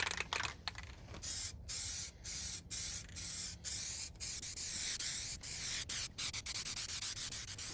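Paint spray gun laying down base coat on a rust repair of a Cummins diesel truck, heard as steady hissing bursts separated by short gaps, close and fairly loud, with no talking.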